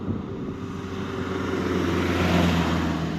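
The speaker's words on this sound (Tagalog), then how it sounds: "Tabi po tayo at may sasakyan." A vehicle approaches on a mountain road near Ifara. Its engine drone grows steadily louder and closer over a few seconds, with a revving edge and no voices.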